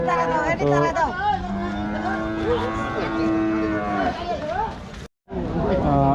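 A cow moos with long, low drawn-out calls, close by, while people chatter in the background of a busy cattle market in Rajshahi.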